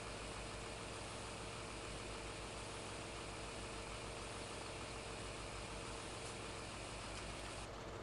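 Tractor engine idling in a farming video game, a steady, dense mechanical hum with a constant low throb, even and unbroken for several seconds with no talk.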